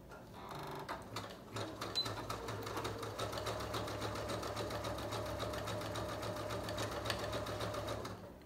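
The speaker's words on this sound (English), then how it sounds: "I've already adjusted my machine to use a zigzag stitch, so this is the stitch that I'm gonna use to sew this closed" Steady, continuous hum and rapid chatter of a sewing machine running a zigzag stitch along a pillow seam, close up and uninterrupted for the whole stretch.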